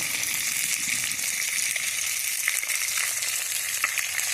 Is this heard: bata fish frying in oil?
yes